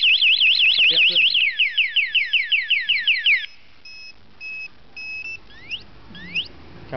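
A loud electronic motorcycle anti-theft alarm on a Kawasaki Ninja 650 warbles rapidly, then sweeps in repeated rising siren chirps, followed by shorter beeps and a few scattered chirps with pauses between.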